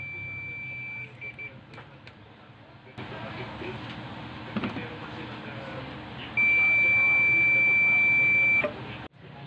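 A multimeter tester gives a steady high electronic beep for about two seconds near the end, testing a shorted diode on a Samsung UA32N4003AR 32-inch TV board, following a quieter hum and a brief earlier tone.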